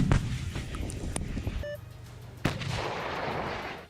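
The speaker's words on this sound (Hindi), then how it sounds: "टैंक चलाने वाले सैनिक ने गोला लोड कर जैसे ही उसे फायर किया, लोहे का भारी भरकम टैंक तक थर्रा उठा" A battle tank's main gun fires a shell, heard as one loud, close booming blast with a sharp crack that rolls into a long, rumbling decay over steady low background noise.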